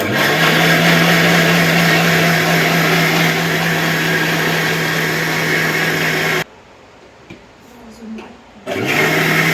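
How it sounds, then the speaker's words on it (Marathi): An electric mixer grinder grinding vegetable khichdi with water runs with a loud, steady whirring whine, stops abruptly, and after a short quiet gap starts up again. "आपला मिक्सर उलटा"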